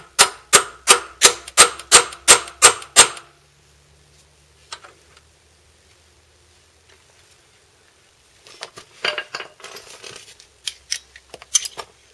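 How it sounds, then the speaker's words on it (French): A hammer taps a socket into a hole during work on a seized ride-on mower engine, eight sharp evenly spaced metallic knocks followed by quiet, then scattered lighter taps and clatter. "Un marteau. On met la douille pile dans le trou."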